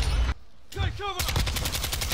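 Rapid bursts of automatic gunfire in Call of Duty Warzone 2, including the Kastov 74u rifle, crackling loud and close in two clusters around a brief pause with a short voice line.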